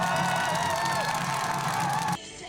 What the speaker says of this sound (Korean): 오후 5시 찬성 204표로 탄핵안이 가결되자 충북도청 앞이 함성으로 가득